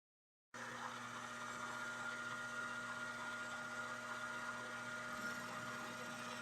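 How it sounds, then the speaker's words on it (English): A milling machine switches on for face milling, its motor settling into a steady, even mechanical hum that continues without a break. "Now what I'm going to do is turn on the machine."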